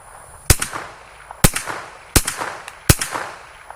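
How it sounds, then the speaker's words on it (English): Four sharp, loud 9mm gunshots ring out outdoors at uneven intervals, each a hard crack followed by a short echoing decay, with no talking. "So a few more rounds of 9mm."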